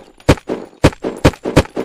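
Rapid gunshots from the video game Unturned crack in a quick irregular burst, about six sharp loud reports close together with brief gaps between them.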